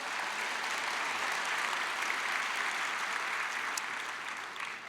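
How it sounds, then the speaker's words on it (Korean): A church congregation applauds during a Sunday worship service, a dense, steady wash of clapping that holds at an even level for about five seconds with no talk over it. "박수로리 한번 격려해 주세요."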